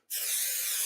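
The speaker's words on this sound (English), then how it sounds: "So spray glue is contact adhesive. So you want to put it on both sides." A can of contact adhesive spray glue, used in renovating a captain's chair, bursts into a sudden loud hiss that holds steady and close for the rest of the moment, with no voices.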